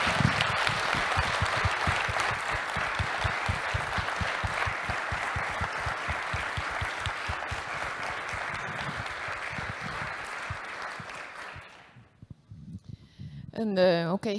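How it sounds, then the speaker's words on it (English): Sustained loud applause from a symposium audience for a workshop's organizing team, steady dense clapping for about twelve seconds that cuts off abruptly before a single voice begins speaking. "So please give the warm and very loudly applause to Maria and her team."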